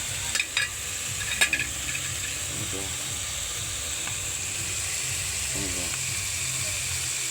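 Food frying in a pan with bagoong (shrimp paste) and other ingredients, stirred with a steady sizzling hiss and a few sharp clinks of a utensil against the pan near the start.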